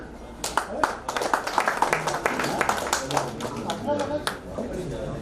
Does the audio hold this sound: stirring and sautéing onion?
no